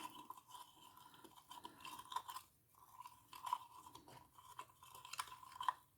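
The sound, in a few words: stirring oil with a cinnamon stick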